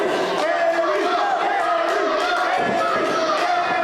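A wrestling crowd at the Ryan Buckley Memorial Tournament roars for a returning wrestler, a dense, continuous wall of cheering and shouting that stays loud throughout.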